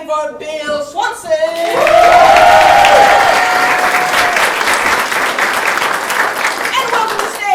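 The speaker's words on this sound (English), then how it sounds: "And continue clapping for Bill Swanson" An improv comedy audience claps for performers being introduced, with whoops and cheers. A voice speaks over the start, then the applause swells and stays loud and dense.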